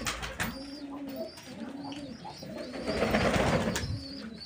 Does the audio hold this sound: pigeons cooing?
yes